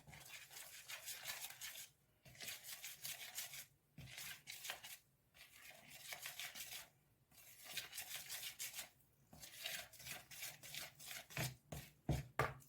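A spoon stirs corn flour and baking powder in a bowl in rhythmic scraping strokes, in repeated bursts of a second or two separated by short silent gaps, close and fairly quiet.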